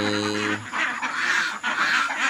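Domestic ducks quack in a lively, overlapping chorus nearby, following a brief tonal electronic beep at the start.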